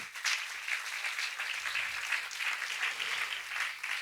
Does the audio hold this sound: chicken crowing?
no